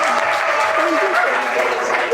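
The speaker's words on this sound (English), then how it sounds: "Please, crowd, my family, give it up for Chris." Audience applauding a poet named Chris at a live poetry show at the Bush Theatre, a steady, dense wash of clapping filling the room throughout with no pauses.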